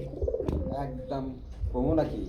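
Pigeons of the Bombay Rajgolla or Beauty breed coo softly in a series of low, throaty calls, with a voice talking close by.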